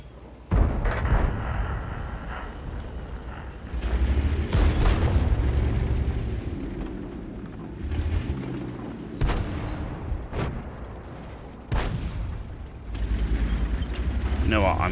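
High-explosive shells striking a tank in World of Tanks, heard as several loud, booming impacts spread across the clip with heavy low rumble between them, while people talk over the action.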